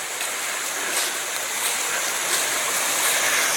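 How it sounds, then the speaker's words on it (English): Running water works its way down through drain rock and into a culvert along a railway line in November, a constant near rushing hiss that stays even throughout with no talking. "This is a nice scene, some running water"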